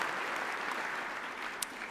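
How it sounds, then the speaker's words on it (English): An audience at a State of the City event gives a big round of applause, continuous crowd clapping at an even, fairly distant level that runs throughout. "let's give a big round of applause."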